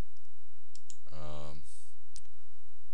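Mouse click while working in Photoshop, a couple of faint, sharp ticks around a short burst of speech.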